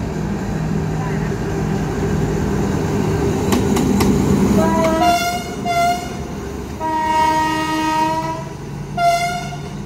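A Thai diesel locomotive running light, with no cars, to form train 201: a steady engine rumble with a few clanks, then several loud horn blasts in short and longer toots, fairly close.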